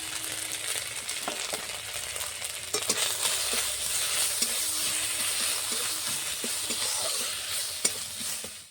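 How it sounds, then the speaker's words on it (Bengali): Ginger paste and turmeric fry in hot oil while being stirred, a dense continuous sizzle with light ticks and scrapes of the ladle scattered throughout, close and fairly loud, fading out at the end. "ভালো করে ভেজে নিয়েছি, আদা কাঁচা গন্ধ চলে গেছে।"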